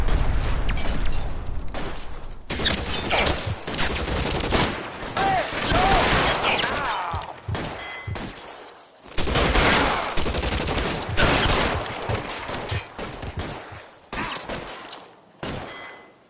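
Gunfire in the 1940s Los Angeles crime video game L.A. Noire, loud sustained bursts of rapid shots and echoing volleys in a shootout, with brief pauses and some talk mixed in.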